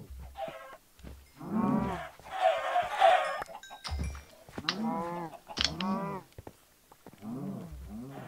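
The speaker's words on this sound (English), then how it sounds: "How is this cow out here?" Several cows moo in the Minecraft SkyBlock world, a string of drawn-out lowing calls one after another with short pauses, fairly close and clear with no talk over them.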